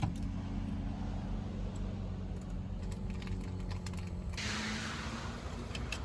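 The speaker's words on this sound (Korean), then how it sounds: "해체를 위해 먼저 조수석을 뒤로 밀어줍니다." Passenger seat of a 2012 Mercedes-Benz E300 W212 sliding back inside the car, a soft mechanical creak and ratcheting clicks, faint and close, ending in a brief rustling shuffle.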